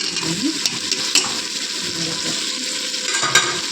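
Onions are sautéed in a pan with a dense sizzle broken by a few scraping stirs and soft clinks. The sound is close, with no speech.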